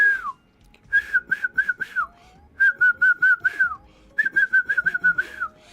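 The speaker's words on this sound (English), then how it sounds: "Yes, I can whistle." A person whistles a short, tuneful melody in three bursts of quick, clear notes that fall at the end of each phrase, close and alone with brief pauses between.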